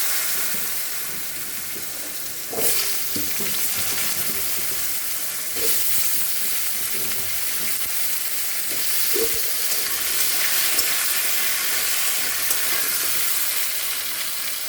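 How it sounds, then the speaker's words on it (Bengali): Steady, close frying sizzle of potatoes in oil with whole cumin fills the whole stretch, with occasional clinks and scrapes of stirring. "আলুটা ভাজা হোক"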